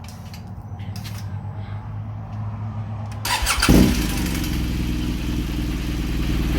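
A BMW R1200 wethead motorcycle engine cranks and fires up after a spark plug change, then settles into a steady, loud idle close by.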